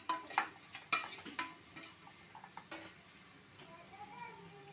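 Curry leaves, coriander, mint and onions being fried in a pan for a mushroom biryani, with a spatula scraping and clanking in several sharp bursts over a soft, steady sizzle.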